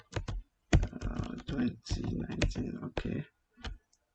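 Date being typed on a computer keyboard in MS Word, a quick run of near, dry key clicks in short bursts with brief pauses, no voices.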